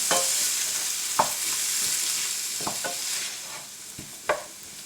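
Tomatoes with their juice go into a pan of frying onions and spices for a prawn and spinach curry, bringing a steady bright sizzle and a few sharp stirring clunks of a spoon against the pan.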